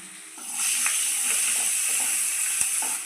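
Onion pieces frying in oil with mustard seeds, cumin and curry leaves: a steady, loud sizzling hiss with faint crackles throughout.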